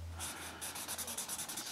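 Soft, repeated scratchy strokes of a pen colouring in a colouring book, close and quiet, in a steady back-and-forth rhythm with no talking.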